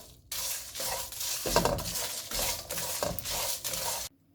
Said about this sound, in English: at this stage I am going to add dry red chillies and dry roast it for another minute or so